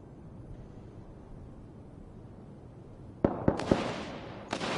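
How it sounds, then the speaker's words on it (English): Gunfire in the Fortnite video game cracks out as a quick cluster of three sharp shots followed by one more after a pause, heard over a low steady background hum with no talking. "There's a lot of shooting going on."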